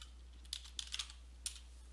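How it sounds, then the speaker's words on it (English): Keys clicking on a computer keyboard while a hotkey is pressed in Microsoft Excel: a few crisp, close keystrokes in a short, uneven burst, then a single click, in a quiet room. "I'm typing AltEnter."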